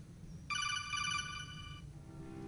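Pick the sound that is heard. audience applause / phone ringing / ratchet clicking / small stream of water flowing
phone ringing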